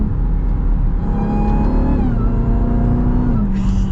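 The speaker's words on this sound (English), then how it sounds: "there's nothing that's ever going to just beat a Hellcat when it comes to sound." A 2023 Dodge Durango Hellcat engine revs at partial throttle, a loud deep rumbling growl with rising and falling pitch, heard up close and steady throughout.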